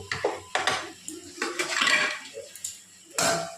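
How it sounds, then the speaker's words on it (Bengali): Metal lid set onto a pot of chicken masala in a home kitchen, a few clattering clinks and knocks spread across a few seconds, fairly close, with no talking. "তো এইভাবে এবার আমরা একটু ঢাকা দিয়ে দেব।"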